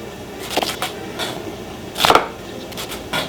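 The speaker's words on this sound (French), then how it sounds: "Échalote, bol comme ça, couteau rouge bien sûr, et on va les émincer." A red knife slices shallots on a board for a steak sauce, giving a few sparse, crisp chops spaced out over a couple of seconds, close by.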